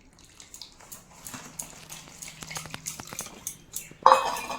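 Semolina stirred into sour yogurt in a big bowl, heard as soft, wet scraping and light spoon taps against the bowl, growing busier before a sharper clatter at the end.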